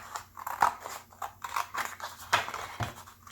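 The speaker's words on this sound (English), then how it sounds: "take my scissors and cut this off" Scissors trim the edge of paper for a patchwork tarot journal page, a close run of quick crisp snips and crunchy cuts in irregular rhythm, with no talk.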